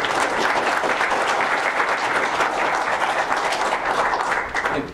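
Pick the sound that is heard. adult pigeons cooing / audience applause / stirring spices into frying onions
audience applause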